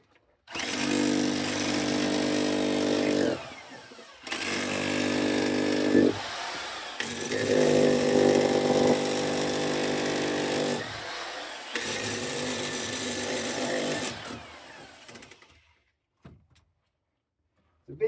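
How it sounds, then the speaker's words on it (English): Power drill boring into rock in a dark enclosed space, running loud and close in four long bursts separated by short pauses, with no talk over it. "let's hop into it and I'll drill a bit of rock out"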